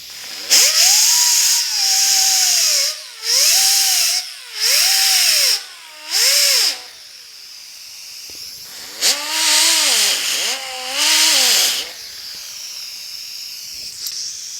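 An angle grinder works steel door jambs on a 1950 Chevy truck in short bursts, its whining pitch rising and falling as the disc bites and lifts, with pauses between passes and no voices.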